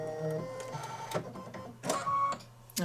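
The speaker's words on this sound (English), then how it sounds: "Thread the machine by hitting the needle thread button." A computerized embroidery machine threads its own needle with a series of short mechanical whirs, clicks and ticks close by, a motorized hum running underneath without talk.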